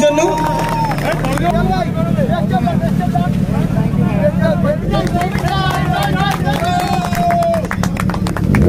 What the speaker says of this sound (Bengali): এটা জোরে হাততালি হয়ে যাক ওদের জন্য